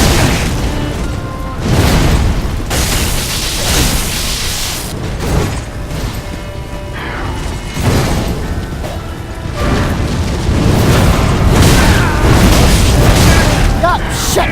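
Lightning spears rain down during the Soul of Cinder boss fight in Dark Souls 3, a run of loud, heavy booming impacts with sharp crackling bursts, coming in waves across the whole stretch.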